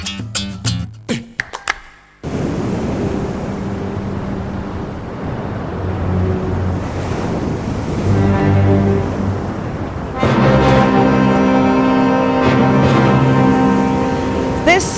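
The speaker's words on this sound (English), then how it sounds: "These huge waves on Fistral Beach have probably travelled hundreds of miles" Huge Atlantic waves breaking on Fistral Beach on Cornwall's north coast, a steady roaring wash of surf that swells louder toward the end, with someone speaking over it.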